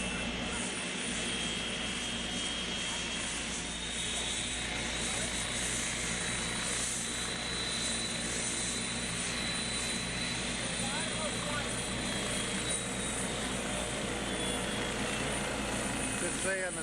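A helicopter engine runs on a museum taxiway, a steady loud whine and whirring drone held throughout at a moderate distance.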